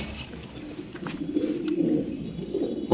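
Yellow Bombay fancy pigeons on a pigeon farm cooing in a low, rolling murmur that swells and continues throughout, close by, with faint background clatter and no speech.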